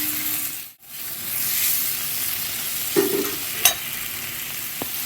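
Boiled tolli greens are sautéed in a hot pan with a steady, close sizzle and occasional scraping stirs, with no talk over it.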